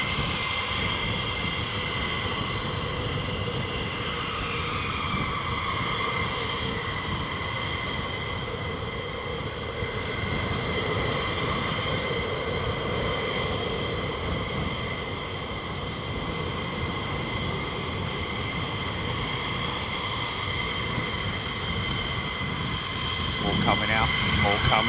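Fighter jets taxi at RAF Lakenheath, their engines producing a continuous loud whine and roar with layered tones shifting gradually as they move to line up, heard at moderate distance with people talking intermittently.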